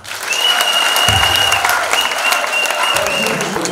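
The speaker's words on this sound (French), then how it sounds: "Je vous demande d'applaudir les démonstrations." Audience at a political gathering in Burkina Faso claps loudly and continuously, a thick uniform roar of many hands throughout, with faint tones and brief low thumps beneath the applause.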